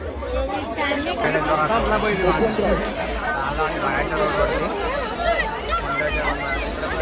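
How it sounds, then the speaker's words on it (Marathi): Dense crowd chatter and hubbub on a road outside the Mhasa village fair (jatra) at Murbad, a steady babble of many voices close around, with nearby people talking throughout. "या साईडला पण गर्दी."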